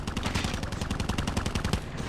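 Rapid automatic gunfire from Call of Duty Mobile, a dense, loud stream of evenly spaced shots rattling continuously for about two seconds with no talking over it.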